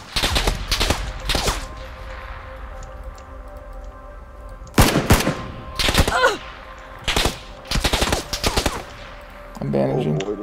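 Bursts of automatic gunfire and single shots in the battle royale game Battlegrounds, loud sharp cracks arriving in clusters with pauses between, some rapid volleys, and a voice briefly at the end.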